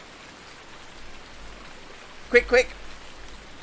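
Rain falls in the farming video game Farming Simulator 19, a soft continuous patter close by, briefly interrupted by someone speaking two quick words.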